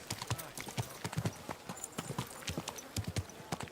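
Horse hooves clip-clop at a steady walking rhythm in the medieval role-playing game Kingdom Come: Deliverance II, the sharp, repeated strikes fairly close amid quiet ambient background.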